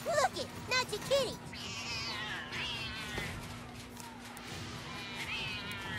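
Cartoon cats meow repeatedly in South Park: The Stick of Truth, with rising, wavering calls through the first part and a drawn-out yowl later, mixed with game sounds and voices talking.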